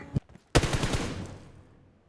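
Gunfire from the BGMI video game: a single sharp shot, then a rapid burst of automatic fire giving cover, with the echo trailing off over about a second.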